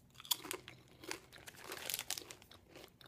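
Sea salt and olive oil veggie chips crunch and crackle in a series of short, crisp bursts of chewing, faint and close, with no talk.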